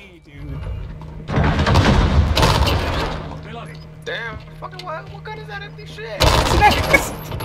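Gunfire in the video game Modern Warfare comes in loud, dense bursts near the start and again at the end, with a quieter stretch of game sounds and a player talking between them.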